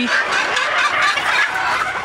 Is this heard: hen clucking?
yes